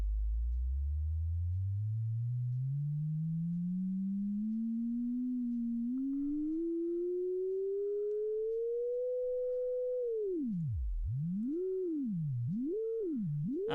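A pure synthesiser tone from software glides slowly upward from very low to mid pitch, then swoops down and up in quick wavering bends as a slider is dragged around, steady and clean with no voices.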